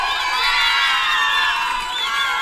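A crowd at a live music concert shouts and cheers loudly, a dense, continuous roar of many voices with high whoops and cries sustained throughout.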